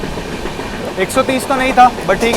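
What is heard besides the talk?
Goa Sampark Kranti Express train running past a station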